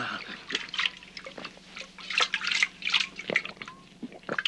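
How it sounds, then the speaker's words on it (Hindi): Water poured for drinking, a bright splashing and dripping trickle in short uneven bursts, close and fairly loud, with no talk over it. "अलादीन, लीजिए, बिस्मिल्लाह, पानी पीजिए।"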